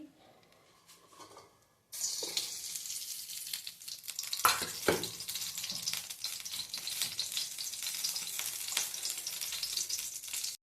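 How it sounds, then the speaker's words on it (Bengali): Nigella seeds (kalo jeera) hit hot oil in a wok, bursting into a loud, steady sizzle after a quiet start, with occasional stirring scrapes and crackles throughout. "কালো জিরা দিয়ে নিলাম, ভালো লাগবে তেলটা।"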